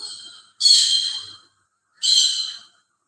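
A pet bird calls from a home kitchen in two loud, shrill bursts, each about a second long, separated by a short silence.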